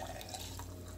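Juice is poured and spills, with a close, soft trickling and dripping of liquid that runs steadily through the moment, with no talk.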